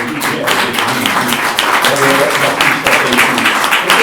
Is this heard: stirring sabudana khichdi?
no